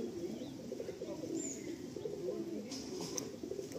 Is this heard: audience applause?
no